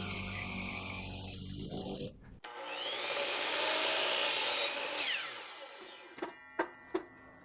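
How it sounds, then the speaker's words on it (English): A power saw cuts wooden side pieces for a home-office floating desk, building to a loud rasping whine through the wood before stopping, followed by three quick wooden knocks. "I measured out and cut the two side pieces"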